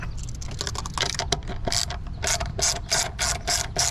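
Rapid ratchet clicking from loosening the air intake clamps on a 2024 Honda Civic Type R, with bursts of quick, close mechanical ticks repeating in uneven runs.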